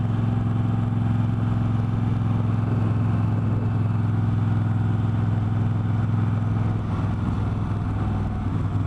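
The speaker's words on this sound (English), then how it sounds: "this is just like driving Miss Daisy stuff right here, going down these roads next to the lake here" A Moto Guzzi V7 III Carbon Shine motorcycle cruises along a lakeside road, its engine a steady low drone mixed with constant wind rush, loud and unbroken throughout with no talking.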